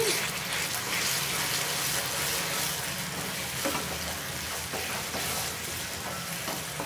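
A no-bake cake mixture is stirred and mixed in a bowl, giving a continuous close, gritty swishing and scraping texture with no pauses and no voices.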